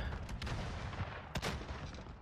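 Explosions and gunfire in a Call of Duty game, a couple of sharp blasts cutting through a dense, rumbling battle din over a short stretch.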